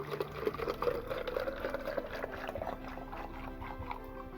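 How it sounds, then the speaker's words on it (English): Water is poured into the back end of a plastic bottle rigged for garden drip irrigation, a soft bubbling, gurgling trickle that continues steadily at close range. "So I am going to pour my water here at the back."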